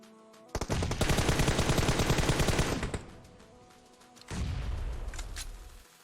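Automatic gunfire in PUBG Mobile: a dense, loud burst of rapid shots lasting over two seconds, a brief lull, then a second sustained volley of shots.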